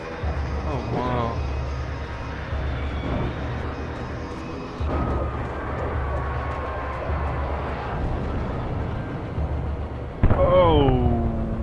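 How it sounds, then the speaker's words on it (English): A helicopter attacked by birds crashes in the video game Alan Wake: a loud, continuous engine and rotor roar with abrupt shifts and a sharp impact-like burst near the end, with voices heard among it. "The birds are attacking the helicopter and they got it to crash."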